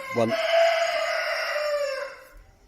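A cockerel crows once, a loud drawn-out call close by, following a brief clucking note.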